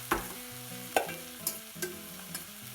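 Parsnip and butternut squash are stirred in oil in a pan with a spoon: several sharp scraping strokes at an uneven pace, close and clear, over a low sizzle with no talking.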